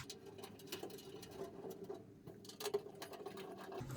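Thumb screws being turned down on the side panel of a NAS PC case: faint, quick patter of small clicks and ticks in an irregular rhythm, close and quiet, with no talking.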